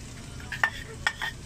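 Onion sautéing in a pan gives a faint, low sizzle over about a second and a half, with two quick utensil scrapes against the pan partway through.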